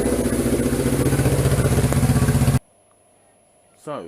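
A Suzuki GS1000 motorcycle engine idles with its exhaust baffle removed, a loud, close, throaty rhythmic burble that cuts off abruptly midway, followed by near silence and a short voice at the end.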